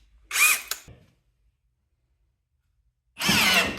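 A full-size Ryobi cordless drill runs under load on speed 2 in two close, loud bursts, a short one that stops quickly and a longer sustained whir after a silent pause.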